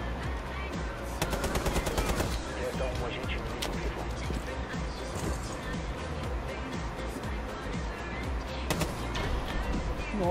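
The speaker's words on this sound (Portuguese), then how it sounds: "Nossa, que tiro foi isso?" Rapid bursts of gunfire from the video game Rainbow Six crackle through the match audio, including a loud automatic volley, amid steady game noise with players talking over it.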